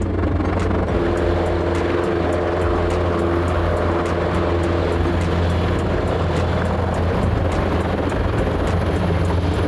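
A military helicopter's steady, loud rotor and turbine roar fills the whole stretch without letup, with a fast regular rotor chop and a high whine on top, no voices.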